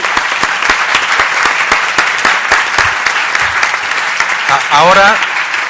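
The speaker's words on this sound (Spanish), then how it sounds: "un aplauso muy fuerte" Loud audience applause fills the room at a conference session, steady and sustained clapping from a crowd, with a brief voice breaking through near the end.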